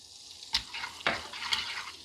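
Chili flakes and black pepper stirred through melted butter in a small pan, giving soft scraping strokes at a steady pace over a faint sizzle, close by with no talking.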